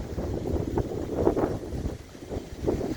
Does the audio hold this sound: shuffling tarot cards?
no